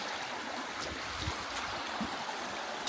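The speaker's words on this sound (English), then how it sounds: "Stumbled across a waterfall." A waterfall on a countryside walk in Scotland, a steady broadband rushing roar that stays constant throughout, moderately close and fairly loud.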